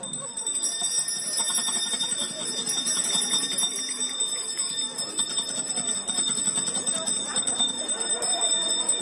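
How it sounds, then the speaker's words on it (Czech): Many small hand bells shaken together by children at a Christmas tree lighting, a dense continuous jingling that stays steady and fairly loud throughout, with faint crowd voices underneath. "Tak pojďme společně zazvonit."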